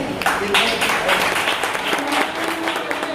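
An audience at a BAMCEF convention hall claps in steady applause, filling the room while a voice speaks over it.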